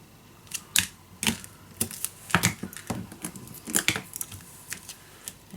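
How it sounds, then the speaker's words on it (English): Adhesive tape pulled and pressed onto folded paper while building a scrapbook pocket: soft, close crackles and sharp ticking snaps in an uneven patter, quiet with no voices. "so I need to put down some tape on here"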